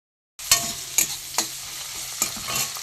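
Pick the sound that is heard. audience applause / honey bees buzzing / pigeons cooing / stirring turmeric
stirring turmeric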